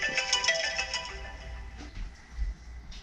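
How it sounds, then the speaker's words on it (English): A phone ringtone plays a repeating melodic chime pattern, fairly close and clear, fading out after about two seconds with some low background noise beneath. "I got a phone call."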